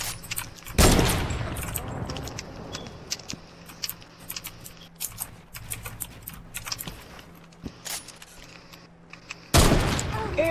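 Rapid bursts of video game gunfire from a creative-mode fort battle crackle in dense volleys, loudest at the start and end, with scattered sharper shots in between.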